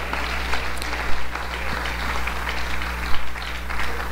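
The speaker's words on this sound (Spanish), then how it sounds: "las mujeres dándole un aplauso al Señor." Women in a church congregation applaud the Lord, a loose, moderate clapping over a steady low electrical hum, with a few louder bursts standing out.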